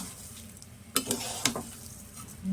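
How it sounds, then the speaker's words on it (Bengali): Rice grains being dry-fried and stirred in a pan, a soft steady sizzle and rustle with a few sharper scraping clicks near the middle, close and fairly quiet, no talk. "বন্ধুরা দেখো ঝরঝরা করে চালটা ভেজে নিয়েছি"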